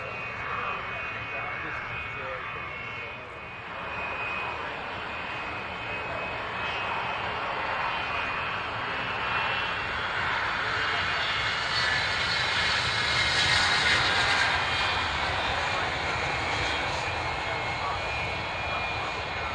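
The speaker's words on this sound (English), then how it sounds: "I wouldn't complain at a Vulcan flying over me" A Vulcan jet aircraft flying over delivers a broad, rumbling engine roar that swells gradually and peaks loudest near the middle before easing slightly.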